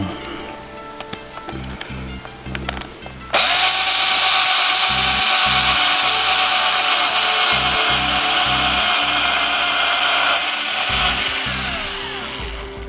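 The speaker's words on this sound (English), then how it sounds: "that takes around about 13mm hole, so half an inch, which is the full bit, so I'm just going to go straight through this" A drill with a 13mm (half-inch) bit bores straight through plastic. After a quieter lead-in, a loud, continuous grinding whir kicks in abruptly and runs for about nine seconds before easing off.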